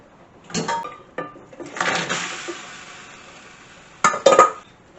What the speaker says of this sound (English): So now I'm going to drain off my potatoes and put the potatoes in.